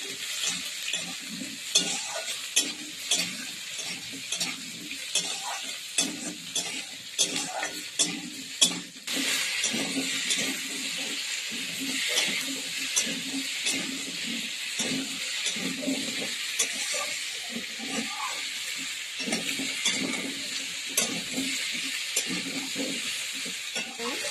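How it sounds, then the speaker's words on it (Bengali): Potatoes added to already-browned onions sizzle steadily in a hot pan, a continuous hiss with frequent scraping clicks of stirring, fairly close and loud without talk. "আলুটা দিয়ে একটু ভালো ভাজা মতো করবো।"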